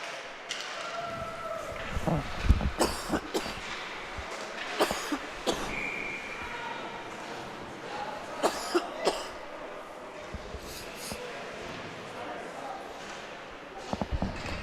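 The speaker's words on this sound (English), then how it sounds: "got hit with a cough attack at the worst time there" A hockey commentator at a freshman high-school game coughs repeatedly in uneven bursts, close to the microphone, over a steady background of arena noise.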